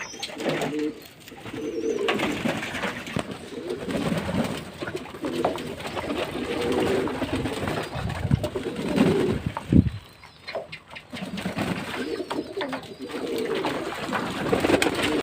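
Pigeons cooing while being bathed on a hot day, continuous low throaty coos from several birds nearby, with occasional wing flaps and splashing.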